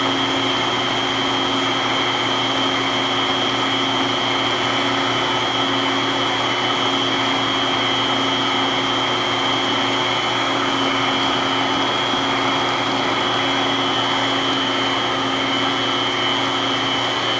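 An electric mixer whirs at high speed beating eggs and sugar for a sponge cake, a loud continuous motor drone with steady tonal whine and no breaks.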